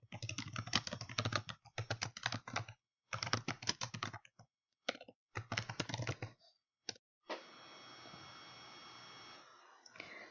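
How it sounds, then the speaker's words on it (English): Typing on a computer keyboard to enter a library search, close bursts of quick clicking keystrokes separated by short pauses, followed by a faint steady hiss. "First, I'm going to type in the keywords Fresno County Public Library."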